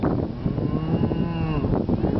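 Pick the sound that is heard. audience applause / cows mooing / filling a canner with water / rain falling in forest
cows mooing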